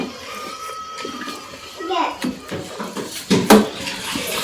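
Soaked sago is mixed with chilli and crushed peanuts in a bowl, making close clattering and squelching sounds with a few knocks against the dish, and a faint voice in the background.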